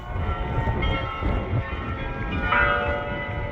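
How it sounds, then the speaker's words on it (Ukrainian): The Oude Kerk church bells in Amsterdam strike seven in the evening, ringing out in resonant, sustained tones over a low background rumble. "І на Аудекерк Дзвони вже відбивали сьому годину пополудню."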